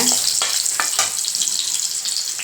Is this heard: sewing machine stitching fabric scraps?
no